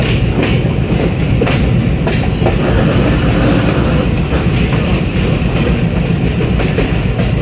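A passenger train runs on the line between Jhelum, Wazirabad and Lahore, loud and close with a steady rumble and rhythmic clickety-clack of wheels over rail joints throughout.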